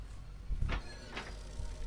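A trap door opening in the video game Escape From Outer Space, a short mechanical grinding slide followed by a second scraping movement, moderately loud against a low background hum.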